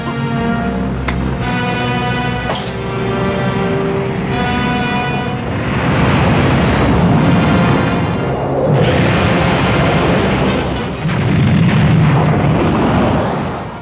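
Booming cartoon explosions of the earth exploding in Dragon Ball Z roll out in repeated loud bursts and rumbling waves, layered over dramatic tones.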